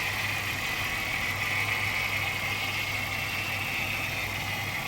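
Engine of a 2004 Pontiac Grand Prix GTP running steadily after a fuel pump replacement, a continuous, even idle hum with a faint high whine, close and unbroken, with no talk.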